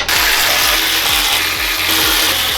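A ratchet loosens 12 mm skid plate bolts under a car, making loud, close, rapid clicking in an even repeating rhythm throughout.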